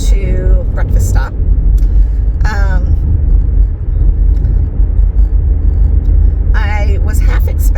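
An old small car drives along with a steady low rumble of engine and road noise throughout, while people talk inside the cabin over it.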